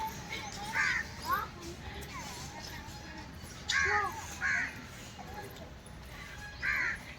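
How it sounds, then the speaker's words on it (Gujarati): Crows caw in a garden area with trees, giving short bursts of calls at intervals over soft background chatter and ambient noise. "નગરા કાગડા બોલે છે."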